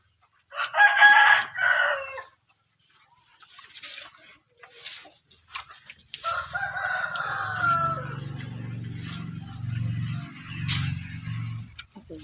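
A rooster crows loudly near a farm where a cow is about to give birth, followed by chickens clucking in a rising, sustained chorus, with quieter sounds in between.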